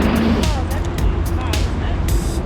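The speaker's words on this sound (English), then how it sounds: "Look at all the cars" Cars pass steadily along a busy London street, a continuous close rumble of engines and tyres with brief swells as vehicles go by, and a voice speaks over the traffic.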